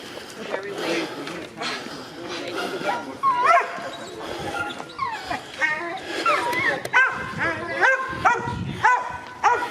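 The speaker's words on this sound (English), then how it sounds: "You'll realise there's no shortage of dogs out here." Several dogs bark, yip and whimper repeatedly in a park in the San Diego area, busy and fairly close, with voices talking among them.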